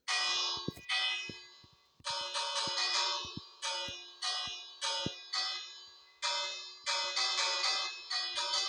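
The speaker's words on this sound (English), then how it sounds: "I'm gonna ring this bell." A bell rung in the Minecraft video game, struck about ten times in quick succession, each bright metallic clang ringing out and decaying before the next, loud and alone with no talk.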